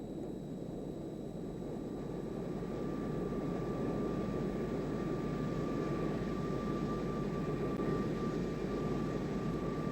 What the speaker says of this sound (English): we are now on final approach for touchdown at Torrejon